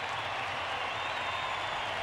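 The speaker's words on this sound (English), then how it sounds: "listen to the crowd as the Braves take the field" A large baseball crowd at a 1993 Braves home game against the Cubs roars and applauds in a steady, dense wash of noise as the Braves take the field.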